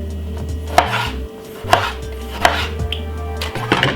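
Knife chopping a large tomato on a board for a green salad, with three or four sharp, evenly spaced cuts over low kitchen background noise.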